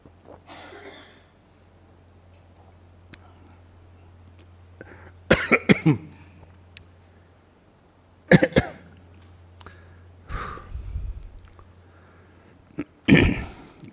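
Several separate coughs and throat-clearings from an audience ring out in a quiet room during a guided meditation, scattered with long hushed gaps between them.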